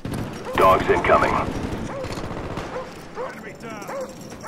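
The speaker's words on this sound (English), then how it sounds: "Dogs incoming." Attack dogs in Call of Duty Black Ops bark and yip in a quick flurry under game announcer voices, with gunfire and other game sounds around them.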